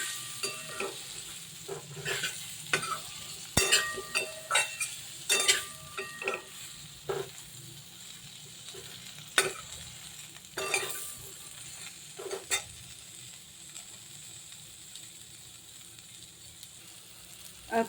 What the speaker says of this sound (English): add cumin seed powder, add ginger powder and again saute